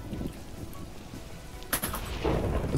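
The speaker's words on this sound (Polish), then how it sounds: "Piorun gdzieś uderzył!" A lightning strike in Minecraft lands as a sharp crack out of quiet rain, followed by a low, heavy rumble that swells and holds to the end, with no voices.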